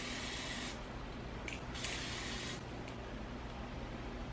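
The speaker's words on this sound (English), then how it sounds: "I like spraying it directly on my face" Sephora Perfection Mist Airbrush blush sprayed from an aerosol can onto a face, heard as several close hissing bursts of varying length, two short and one longer, over quiet room noise.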